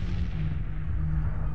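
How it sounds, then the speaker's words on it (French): A cartoon explosion rumbles as a continuous low, heavy roar that stays loud and steady throughout, with no voices over it. "Voilà encore une explosion."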